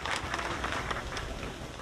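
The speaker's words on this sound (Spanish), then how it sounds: "Un fuerte aplauso para todos ustedes" Faint, steady applause from the audience at the inauguration of an equine therapy program in Apizaco, a soft continuous patter of clapping heard at a distance.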